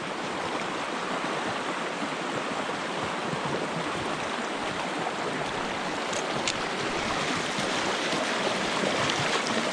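A small trout stream in Virginia flows with a steady, close, rushing wash of water, an unbroken broadband murmur at even volume with no voices.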